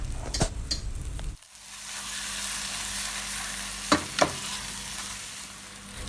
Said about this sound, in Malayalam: ഒരു ടേബിൾ സ്പൂൺ ടൊമാറ്റോ പേസ്റ്റ് കൂടെ ചേർത്ത് ഒന്ന് വഴറ്റിയെടുക്കാം